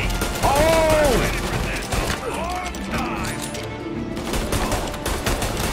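Gunfire rattles through a firefight in Mafia: Definitive Edition, rapid shots and mechanical clatter mixed with a voice exclaiming, dense game action sound under excited speech.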